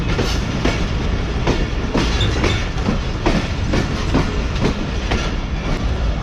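The Karachi Express clattering over the rails onto a station loop line in heavy rain, with a steady rumble under regular clickety-clack wheel beats heard from inside the carriage.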